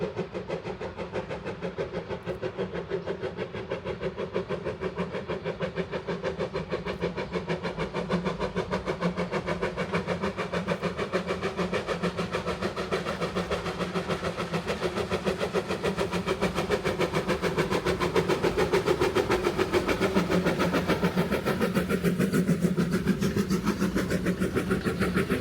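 An NA class 8A narrow-gauge steam locomotive with a tapered smokestack labours up the 3.3% Fielder Bank grade, its exhaust a fast, even, continuous chuffing beat with a steady mechanical roar, loud and close throughout, no voices.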